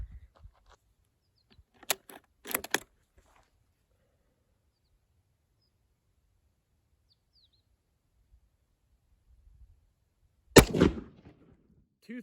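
Surplus Egyptian 1956 8mm rifle ammunition is fired in a few sharp, separate reports, two close together early and a louder one much later, with near silence between them.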